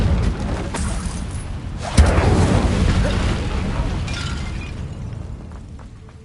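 Incendio fire spell in the video game Hogwarts Legacy, a sudden loud whooshing burst at about two seconds that roars on and slowly fades over several seconds, with faint ambience before it.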